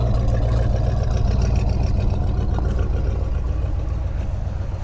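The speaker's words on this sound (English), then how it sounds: "Exhaust note sounds good." A 1972 Buick GS Stage 1 V8 idles steadily with a deep, rumbling exhaust note, loud and close, holding an even, throbbing pulse throughout without revving.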